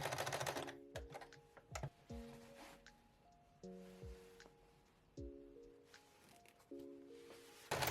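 A sewing machine stitches down belt loops on shorts in short bursts of rapid mechanical clatter, separated by pauses and fabric handling, close and fairly quiet.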